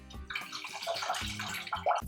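Hot water sloshes and splashes in a big bowl as it is handled, a close, quiet burst of liquid movement with small gurgles.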